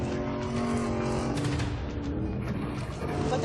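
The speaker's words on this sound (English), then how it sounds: "All four wheels spinning." Truck driving off road into the bushes with all four wheels spinning, a loud continuous engine roar and churning rumble throughout, with voices faintly audible underneath.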